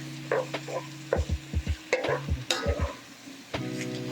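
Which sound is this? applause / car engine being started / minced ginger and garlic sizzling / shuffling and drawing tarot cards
minced ginger and garlic sizzling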